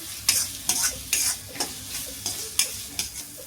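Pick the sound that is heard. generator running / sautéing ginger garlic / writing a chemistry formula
sautéing ginger garlic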